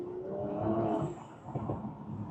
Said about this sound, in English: we're still getting a lot of loud pops and bangs